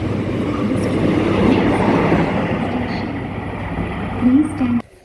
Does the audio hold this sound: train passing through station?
yes